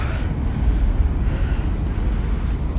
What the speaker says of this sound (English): Here it is, the boiling volcano.